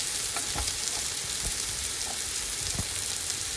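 Chicken chap frying slowly in a little oil in a pan, a steady bright sizzle close up, with a few faint soft bumps underneath and no voices.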